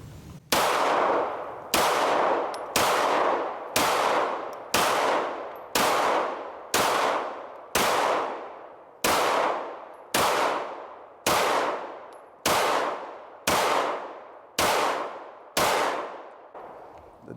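Pistol shots from a ported S&W 2.0 Carry Comp or CZ P-10C, fired one at a time in a steady string of about fifteen loud, sharp cracks, each with a short ringing decay, spaced roughly a second apart, with no talking.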